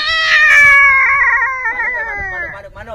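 A voice imitates a fighting cat with a long, wavering, high meow that slides downward, followed by a shorter yowl at the end.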